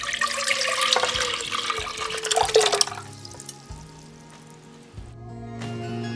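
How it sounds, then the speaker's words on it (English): Mutton broth poured into a saucepan for Afghani Kabuli pulao, a steady splashing liquid stream for about three seconds, then quieter trickles and kitchen clatter, close and fairly loud. "Transfer the broth into a saucepan."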